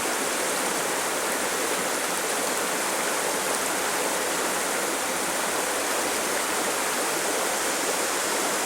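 Water pressed from a soft bag through a Sawyer Mini filter into a cup, a steady close hiss and trickle like a running stream, constant throughout with no pauses.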